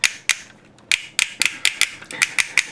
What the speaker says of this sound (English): it's a functional ratchet, and it's not going to break, I don't think, but it sounds awful